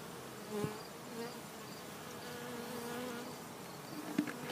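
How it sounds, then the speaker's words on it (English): Bees buzz close by, a fluctuating hum with individual insects droning past, fairly quiet and without talk. "You can see bees and maybe hear some bees just flying around."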